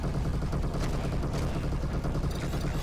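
Dense, continuous video-game gunfire from a shooter, rapid overlapping shots forming a steady loud barrage throughout, with no talking.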